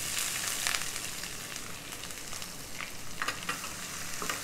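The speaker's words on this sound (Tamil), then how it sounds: "சேர்த்துட்டு நல்லா வதக்குங்க." Chopped medium onions with curry leaves sauté in hot oil in a pan for Kerala kadala curry, giving a steady close sizzle with soft stirring scrapes throughout.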